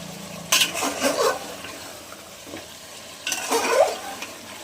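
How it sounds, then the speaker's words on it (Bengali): Chicken pieces are stirred and fried in a pot for chicken kosha, with two loud bursts of spatula scraping and clattering over a low, steady sizzle, nobody speaking. "বেশ সুন্দর করে কষাতে লাগি দেখুন আমি সুন্দর করে মাংসটা কষাচ্ছি"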